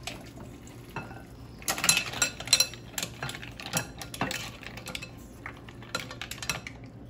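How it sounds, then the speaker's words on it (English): Curry mussels poured from a pot into a big bowl for a Jamaican-style dish, with clinking of shells and metal, scraping and splashing in irregular bursts, loudest in the middle. "I'm gonna pour it in that big bowl right there."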